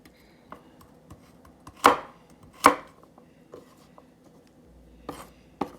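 A kitchen knife chops small baby carrots with a few sharp, close thuds spaced about a second apart on a cutting board, separated by quieter scraping and light clicks.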